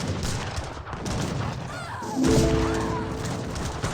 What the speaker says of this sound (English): I can see the grenade launcher actually firing away